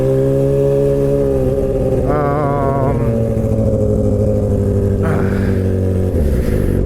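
A Suzuki GSX-R 600 motorcycle engine idles and is blipped close up, a loud, steady four-cylinder drone with a few brief revs rising and falling, no talking.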